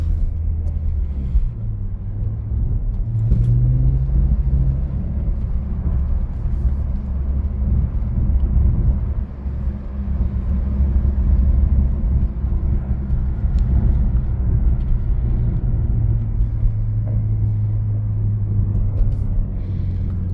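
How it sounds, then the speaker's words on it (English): A BMW drifts sideways across winter snow, its engine a steady, loud low rumble that swells and eases slightly but never stops, with no voices over it. "You're going to see sideways drifting"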